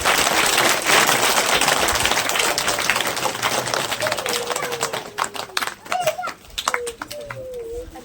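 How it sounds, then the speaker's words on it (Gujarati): Pupils and guests at a school admission and girls' education festival give a burst of applause that is loud at first, then thins into scattered claps under a speaking voice. "તાળીઓથી વધાવીશું ભાઈ."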